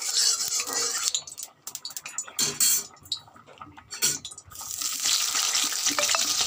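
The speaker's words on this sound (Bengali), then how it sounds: "আলুগুলো ভেজে নেব, কড়ার তেল গরম হয়ে গেছে" Potatoes fry in hot oil in a kadai wok with a steady, close sizzling hiss, broken by the clatter and scrape of a metal utensil against the pan.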